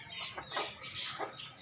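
Backyard chickens and chicks in a coop on vaccination day cluck in a series of close, bright, repeated calls without pause, with the flock busy and no voices over them.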